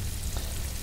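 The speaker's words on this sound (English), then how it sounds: "So saute out, soften up a couple of leeks" Leeks sautéing in a pan, used in place of onions, giving a soft, even sizzle with a faint hum underneath, brief and close, no voices.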